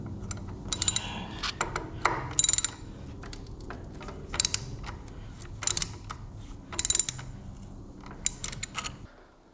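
Repeated ratcheting clicks in short bursts as a wrench loosens the handlebar bolts on an Indian Challenger or Pursuit motorcycle, close up with brief pauses between strokes.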